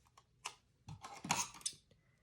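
Scissors cutting paper for a Happy Planner, a few close, crisp snips and rustles in a quiet room, with no talking.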